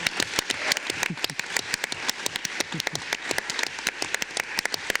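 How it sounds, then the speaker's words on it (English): Applause from a modest audience at the close of a plenary session, distinct individual claps with a sparse, uneven patter that holds steady throughout. "I think we should give ourselves, all of us, a round of applause for everything we've done"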